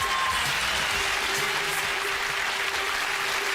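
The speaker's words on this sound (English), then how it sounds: "Jimmy Savile, Margaret, give them a round of applause as they go off into the sunshine." A TV game-show studio audience claps steadily in a dense, even wash of applause that stays at a constant level without talk.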